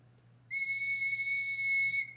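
A single sustained whistle blown as a signal in a Sherlock Holmes radio drama, one clear, steady pitched tone held for about a second and a half over a quiet background.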